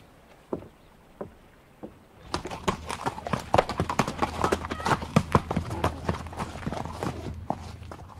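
Hooves clip-clop in a radio drama effect: a few sparse knocks, then a dense, steady run of hoofbeats from a horse moving off, with a rumbling undertone behind it.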